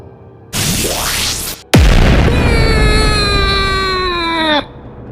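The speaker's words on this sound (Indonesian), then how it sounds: "Sebuah meriam naga Durga melepaskan semburan energi raksasa." A dragon's belly cannon fires a giant energy blast: a rising whoosh, a brief cut, then a massive booming burst with a sustained ringing, tonal hum that slowly falls in pitch before cutting off, loud and close.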